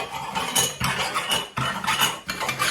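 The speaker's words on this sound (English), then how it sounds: "I'm just rubbing round with this big kitchen foil" Big sheet of kitchen foil rubbed around inside a greased baking tin, rhythmic crinkly scraping strokes repeating about four times, close and fairly loud with no talking.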